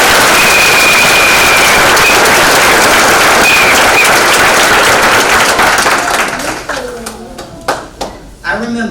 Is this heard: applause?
yes